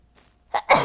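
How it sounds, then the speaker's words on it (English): A single close sneeze in a quiet room during a yoga session, a short sharp intake followed by a loud explosive burst that trails off. "It's the first time I've sneezed on camera."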